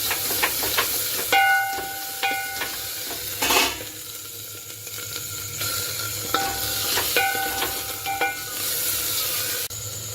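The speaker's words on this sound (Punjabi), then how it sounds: "ਇਹਨੂੰ ਅਦਰਕ ਨੂੰ ਵੀ ਪਿਆਜ਼ ਦੇ ਨਾਲ ਇੱਕ ਮਿੰਟ ਚੰਗੀ ਤਰ੍ਹਾਂ ਭੁੰਨ ਲੈਣਾ" Ginger and onion frying in a pan, a continuous hissing sizzle broken by repeated clanks and scrapes of a spoon stirring against the metal pan, with a few louder bursts of steam.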